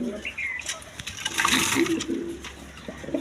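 A pair of pigeons, a Bombay male and a round Golla female, coo softly and intermittently at close range, with some background noise and faint voice-like sounds mixed in.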